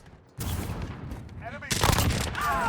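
Rapid automatic gunfire bursts ring out in a shooter video game, loud and continuous, with brief gaps, layered with game effects.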